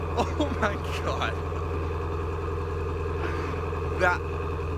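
A Ford Mustang GT350R idles close by with a steady, deep rumble, while someone talks over it in short bursts.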